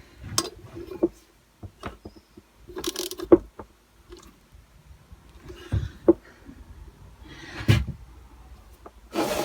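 Socket ratchet turning on the engine of a 1963 Lambretta LI125 Series 3, close clicking bursts of pawl ratcheting, separated by handling clunks and knocks of tools and metal parts.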